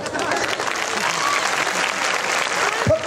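Women in a lecture hall audience clap together for about three seconds, a dense, steady burst of applause filling the room with crowd noise.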